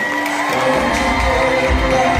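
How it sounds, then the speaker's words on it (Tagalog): Wedding reception crowd cheering and whooping for the newly married couple, a loud continuous wash of shouts and cheers with music underneath throughout. "Palakpak kami kasamang sigawan!"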